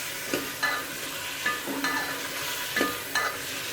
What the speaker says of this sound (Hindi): इसको अच्छी तरह फ्राई कर लेंगे आलूओं को